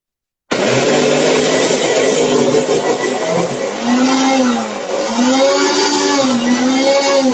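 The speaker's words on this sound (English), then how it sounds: "you have to enjoy the music of mixer grinder." Loud mixer grinder whirring as it blends a peanut and jaggery mixture, a harsh motor roar starting abruptly and holding steady with wavering pitch under the load.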